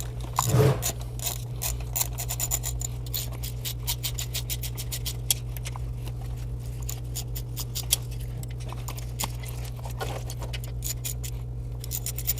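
Rapid ratchet wrench clicks drive an 8mm socket to tighten bolts during fuel injector work on a 2007–2014 GMC Yukon 6.2L, a steady close run of clicking over a constant low hum.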